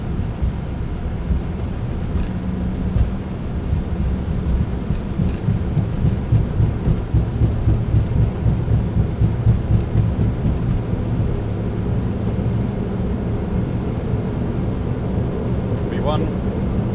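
Engines of a Boeing 767-300ER roar at takeoff thrust heard from inside the aircraft, a heavy low rumble that builds steadily and stays loud, with faint rattles over it.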